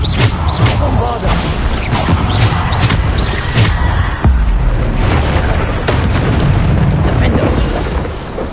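Bombarda spell explosions in Hogwarts Legacy, a dense run of loud booming blasts and crackling bursts through a busy fight, with voices calling out underneath.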